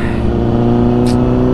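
Honda CBR 1000RR motorcycle exhaust revs loudly and steadily from close range, a dense, sustained engine drone without speech.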